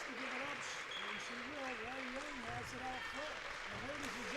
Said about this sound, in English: their fans give them a big round of applause